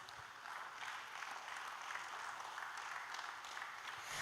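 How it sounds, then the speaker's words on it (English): A round of applause welcomes a Hindustani classical singer at a music and meditation event in an expo hall, heard faint and distant as a steady, even patter of clapping. "Let us all welcome him with a great round of applause"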